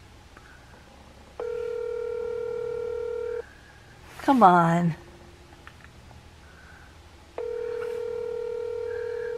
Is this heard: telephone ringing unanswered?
yes